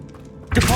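Revelio spell cast in Hogwarts Legacy inside a tomb: a quiet low hum gives way to a sudden loud shimmering magical burst that swells and holds to the end.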